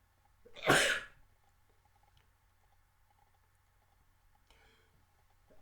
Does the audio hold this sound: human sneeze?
yes